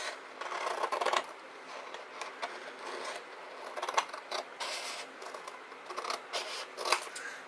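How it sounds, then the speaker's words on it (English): Scissors snip off a paper flap during a card-making craft session, making a quiet series of close, crisp cutting and rustling sounds in an uneven rhythm, with no voices. "And then we're going to cut this flap off."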